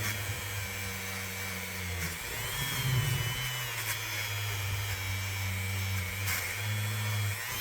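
A power tool fitted with an abrasive pad runs steadily against a rusted, dented pocket knife, giving a continuous whirring drone that shifts pitch as pressure changes, close and loud with no talking.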